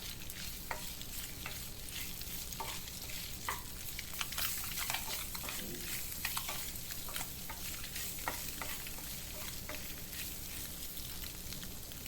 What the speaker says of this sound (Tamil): இதையும் இந்த மசாலாவோட நம்ம லேசாக ஃப்ரை பண்ணிப்போம்